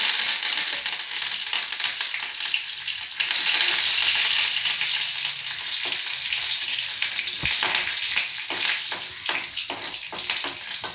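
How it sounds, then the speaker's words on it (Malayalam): Mustard seeds, dried red chillies and curry leaves sizzle and crackle in hot coconut oil, a steady close frying hiss with scattered pops and spatters and no voices. "അപ്പോൾ നമ്മൾ വെളിച്ചെണ്ണ ഒഴിച്ചു, കടുക് ഇട്ടു, പിന്നെ 2-3 വറ്റൽമുളക് ഇട്ടു, അത് കഴിഞ്ഞിട്ട് കറിവേപ്പില ഇട്ടു."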